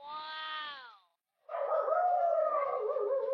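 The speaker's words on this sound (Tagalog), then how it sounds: "Kumakanta yung mga aso." Dogs howl in two long drawn-out bursts with a short gap between them, the first a clear rising and falling tone and the second rougher and fuller, heard fairly close.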